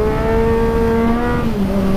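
A Yamaha 900 LC motorcycle accelerates hard in second gear. The engine note is loud, close and climbing steadily, with a strong rasping exhaust and no talking.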